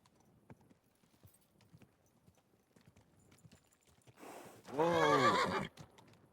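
Horse in the video game Kingdom Come: Deliverance II gives a loud, drawn-out whinny near the end, preceded by soft, scattered hoof clip-clops on the ground; no talking.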